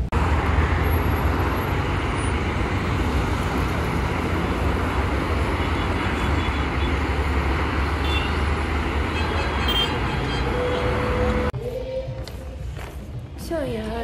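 A car rolls through city traffic with a steady road rumble and engine hum, the noise dropping and thinning near the end; a voice talks over part of the drive.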